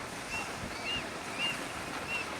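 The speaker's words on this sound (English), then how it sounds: "appreciating the murmur of the waves and the birds' songs" Ocean waves wash steadily onto a foggy beach at a vast coastline, a constant broad surf hiss with soft swells, while thin high bird calls chirp repeatedly above it.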